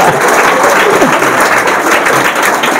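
A school audience claps in a dense, continuous wash of applause that stays steady and loud throughout the short stretch, with no distinct individual claps standing out.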